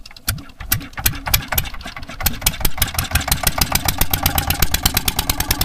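A motorized fishing boat engine pulses in a steady, rapid, thudding rhythm as the boat pulls out. The sound is loud and close, with no talk over it.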